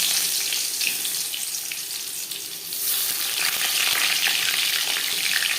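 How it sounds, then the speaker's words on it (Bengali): Potatoes fry in hot oil as the first step of a Bengali chicken curry, a steady close sizzle that grows louder and denser partway through, with no talking. "সবার প্রথমে আলু ভেজে নেব"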